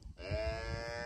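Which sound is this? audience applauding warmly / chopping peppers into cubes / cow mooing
cow mooing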